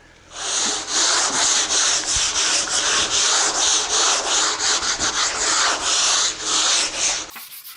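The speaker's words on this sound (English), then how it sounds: "I'm using a hand sand block and sanding with the grain." Steady, rhythmic rasping of a hand sanding block stroking back and forth along the grain of wood, close and continuous, with no talking.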